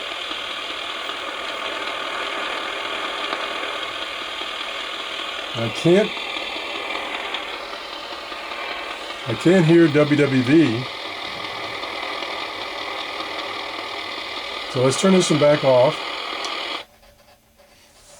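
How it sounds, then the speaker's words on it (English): A shortwave radio receiver, compared between a Kaito KA29 and an Eton Traveler III, gives off a steady broadband hiss and buzz of indoor electrical interference, filling the whole clip under bursts of talk before cutting out near the end. "This one is still getting that interference."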